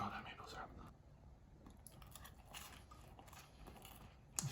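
Faint crunching and chewing of a crisp snowflake-shaped waffle drenched in maple syrup, taken in close, quiet bites.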